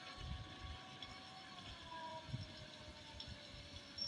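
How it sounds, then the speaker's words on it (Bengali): A train runs alongside a road, heard as a steady, fairly faint rumble with a low hum and a thin whine across the whole stretch. "ট্রেন আছে আমার পাশে।"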